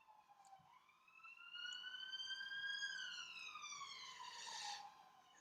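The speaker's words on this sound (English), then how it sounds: "Excuse the siren." A wailing siren sweeps up and down in pitch, swelling louder as an emergency vehicle passes by, then fading slightly at the end.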